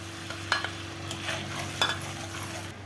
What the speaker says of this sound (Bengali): এবার যে মশলাটা বানানো মশলাটা ঢেলে দিতে হবে।